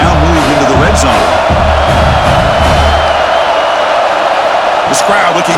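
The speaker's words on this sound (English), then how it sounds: "This crowd looking for a big 4th down stop." Stadium crowd noise from NCAA College Football 26 on PS5, Alabama against South Carolina on a 4th down near the end zone: a steady, loud wash of crowd roar throughout, with commentary voices running over it.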